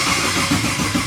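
A BMW E46 fitted with an LS3 V8 engine cranks and fires, a loud, dense, continuous mechanical roar with lumpy rhythmic pulsing, close by and filling the whole moment without talk.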